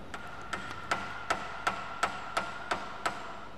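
A hammer strikes a metal chisel in a steady rhythm of about eight sharp, ringing blows, each with a bright metallic ping, close and clear against quiet workshop background.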